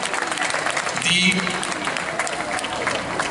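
Audience clapping for the participants at a local talent-show evening in Sant'Arpino, a steady wash of applause running under a voice speaking over it.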